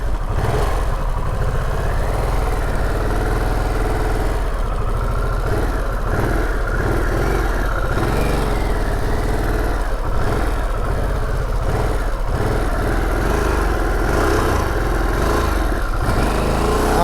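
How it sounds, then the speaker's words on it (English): A 2021 Harley-Davidson Sportster S engine drones steadily and loudly while riding on the road, a continuous low rumble with slight rises and wind noise throughout. "I don't want to push it because I'm not familiar with the bike."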